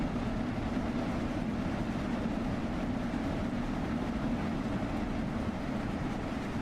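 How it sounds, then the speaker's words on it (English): An old steam passenger train in the Train Sim World 2 simulator runs at close to 85 miles per hour, a dense, steady rumble and roar of rolling wheels and engine that holds without a break throughout. "So we're approaching 85 miles per hour in this old steam train."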